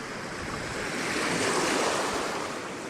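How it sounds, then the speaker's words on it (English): Ocean surf breaking and washing up the shore at a Northern California beach, a steady broadband roar that swells toward the middle and eases off, with light wind noise over it. "here comes the wave"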